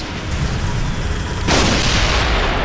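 Rockets explode in Star Wars The Clone Wars: Republic Heroes, a dense, loud roar of blasts and booms that swells louder halfway through, with no pause between them.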